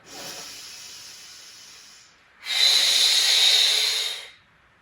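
Two long, audible breaths during a gentle stretching routine, a softer airy inhale followed after a short pause by a louder, rushing hiss of breath, close to the microphone.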